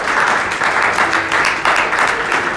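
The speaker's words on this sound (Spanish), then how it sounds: "Denle un aplauso a Dios Todopoderoso." Church congregation clapping in a dense, sustained burst of applause, loud and close, with no speech over it.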